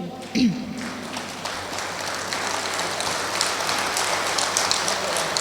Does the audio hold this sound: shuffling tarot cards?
no